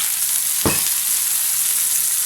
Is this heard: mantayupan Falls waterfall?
no